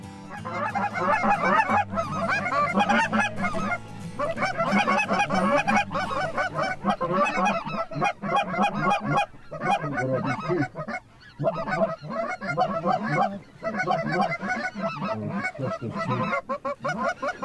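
A flock of white-fronted geese honks continuously, many overlapping loud calls near and far in a dense, rhythmic chorus with no talking.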